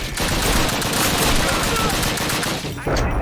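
Gunfire in the Call of Duty: United Offensive PC game, a dense, continuous burst of rapid shots, loud and unbroken for several seconds.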